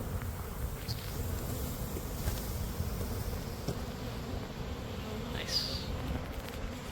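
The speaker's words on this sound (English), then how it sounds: "It's a good size swarm." A swarm of roughly 12,000 to 15,000 honey bees hums in a steady low buzz at close range, with faint voices and occasional bees flying past.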